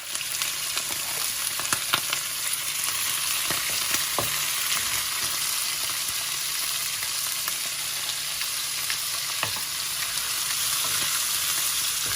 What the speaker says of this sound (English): next thing to go in is the prawns and the squid. Spitting a bit because of course they're wet.